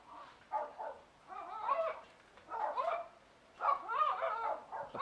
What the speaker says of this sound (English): Apologies for my dog.